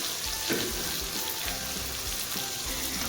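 Spice paste of poppy-melon seed with salt and turmeric frying in hot oil for a spicy chicken curry, a dense, continuous sizzle with soft periodic scrapes from stirring.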